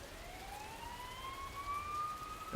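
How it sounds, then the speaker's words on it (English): Faint sirens wail with a slowly rising pitch in the Persona 4 video game, soft and distant over quiet background, before a sudden louder sound at the very end. "You hear sirens nearby"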